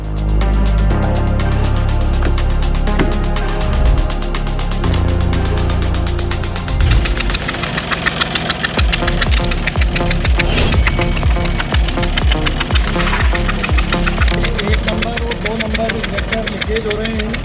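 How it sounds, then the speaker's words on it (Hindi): A Tata Tiago diesel engine with leaking injectors runs with a loud, continuous rapid knocking and clatter, the rhythmic ticking growing more pronounced partway through while the engine keeps idling close by. "इंजेक्टर की आवाज़ है। इंजेक्टर से आवाज़ है,"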